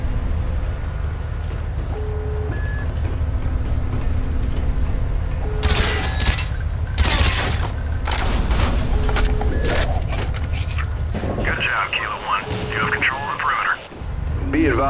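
Gunfire in the Call of Duty Black Ops video game as the door hinges are shot: a cluster of loud cracks and blasts over a steady mechanical drone, with voices talking around it.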